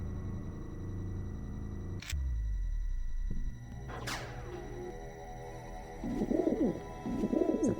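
Pigeons cooing in Deus Ex, two soft warbling coos near the end after a couple of sharp mechanical clicks and a low thud, over a humming game ambience.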